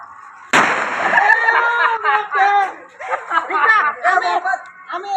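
A firecracker bursts at a Kali Puja celebration, one loud sharp bang followed by excited voices and laughter nearby.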